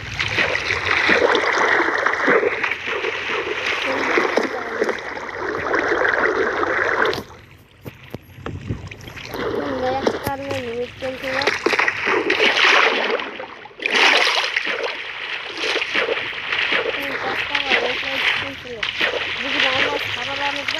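Water in the Minecraft video game splashes and sloshes in bursts under near-continuous talking, with a few brief pauses in the voice.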